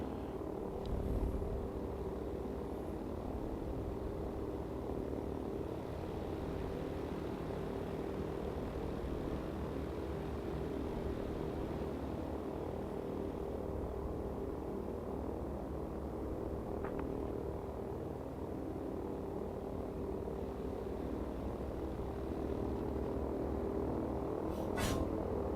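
The engines of a B-32 bomber in a video game drone in a steady, even hum that stays unchanged for the whole stretch, with no talk over it.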